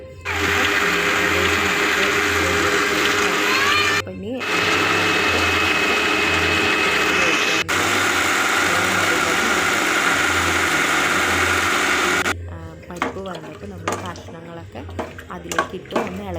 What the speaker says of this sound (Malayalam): അപ്പോൾ ഇതേ മിക്സിയിലിട്ട് നമ്മൾ നന്നായിട്ട് അരച്ചെടുക്കുന്നുണ്ട്